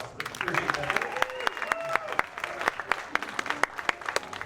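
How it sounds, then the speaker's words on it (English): An audience at a fall preservice staff session gives a round of applause, steady clapping with sharp individual claps standing out and faint voices mixed in, moderately close. "And give him a round of applause as he does that."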